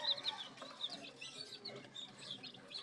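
Sweater gamefowl chicks cheep in soft, repeated high peeps, close by and fairly quiet, with light scuffling in the background.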